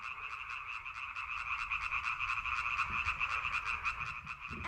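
A dense chorus of many frogs croaking for the plague of frogs in Egypt, a steady stream of rapid, rhythmic pulsing calls that stays loud and close throughout, with no voices.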